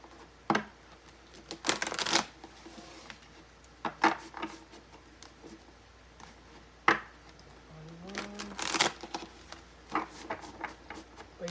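A deck of playing cards is shuffled by hand at close range in quick riffling bursts and soft slaps, fairly quiet, with short pauses between shuffles and no talk.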